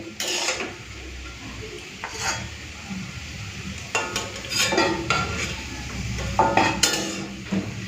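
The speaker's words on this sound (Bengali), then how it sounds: "তো সজনের ফুলের বড়াগুলো ভাজা হয়ে গেছে তুলে নেবো" Drumstick flower fritters frying in hot oil sizzle softly under close clatter of a spatula and pan, with sharp metallic scrapes and knocks coming in bursts.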